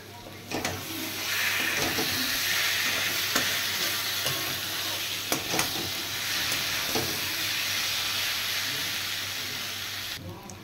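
Potato filling for prawn kochuri sautéed and stirred in a pan, a strong steady sizzle and hiss with intermittent scraping strokes of a spatula, close and continuous throughout.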